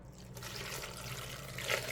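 Chile soaking water poured into a pot for a frugal Mexican soup, a soft steady trickle and splash that swells slightly near the end, faint and close with no talking.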